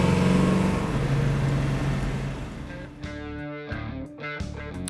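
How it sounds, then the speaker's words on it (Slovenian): A Ford Mustang Mach-E electric car's artificial engine sound effect, a loud synthetic revving hum that fades over about three seconds, then gives way to short tonal pulses. "Električni Mustang ta efekt za motor ima."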